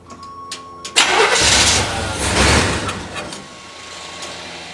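A Chevrolet Suburban that sat for five years cranks briefly, then its engine catches and settles into a rough, loud idle, close by, with no voices.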